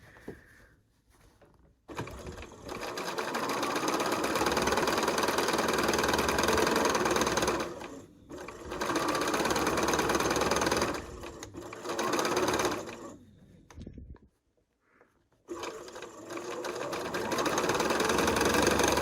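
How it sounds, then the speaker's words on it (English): A sewing machine stitches quilt pieces in long, loud, continuous whirring runs, stopping briefly between seams before starting again, with no voices over the motor. "I'm just going to sew it the way I would normally sew it"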